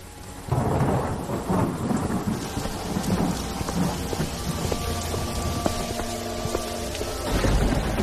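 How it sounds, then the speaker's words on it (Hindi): Heavy rain pours steadily with rolling thunder, dense and loud throughout, rising again toward the end, with no voices. "तभी जोर जोर से बारिश शुरू हो जाती है।"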